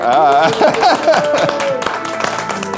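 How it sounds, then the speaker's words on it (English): An audience at a game reveal event for Divinity: Original Sin 2's Game Master Mode gives light scattered applause and cheers under loud voices, with claps picking up toward the end. "A round of applause for our game master."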